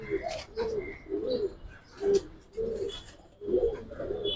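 Giribaz and coloured pigeons coo in a loft, a rhythmic series of close, soft rolling coos repeating about every half second, with faint chirps around them.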